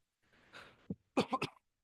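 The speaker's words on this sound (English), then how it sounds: "I have a bit of a cough today" A few quiet coughs close to the mic: a soft breathy one, then a short cluster of three quick coughs.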